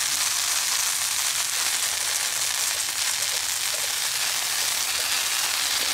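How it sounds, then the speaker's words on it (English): A steady, loud sizzle of cheese in a hot pan fills the air, a dense frying hiss, continuous and unbroken with no voices. "You can hear that sizzle in that hot pan."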